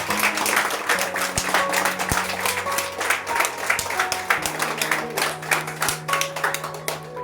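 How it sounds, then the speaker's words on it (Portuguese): Church congregation applauding, a dense sustained round of clapping from many hands with some sustained tones underneath and crowd noise throughout. "Dê uma salva de palmas a Jesus."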